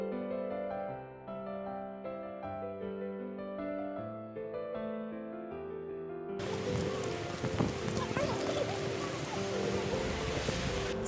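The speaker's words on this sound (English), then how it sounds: "it's raining a lot" Rain falls steadily during a rainy spring walk in Poland, a broad, hissing patter that swells suddenly partway through and stays loud and dense to the end, following a stretch of tonal music.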